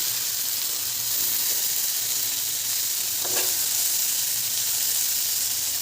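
Food frying in a pan on a home stove gives a constant loud sizzle and hiss throughout, with a brief scrape of stirring partway through.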